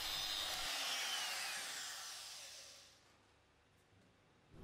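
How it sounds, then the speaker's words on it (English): A DeWalt router fitted with a 1/8 inch two-flute straight bit carves into wood while making a 3D sign. A loud, steady high whine fills the first three seconds, then fades to a quieter hum. "I'm using a 1/8 inch, 2-flute straight cutting bit, and set my speed on the DeWalt to about 4."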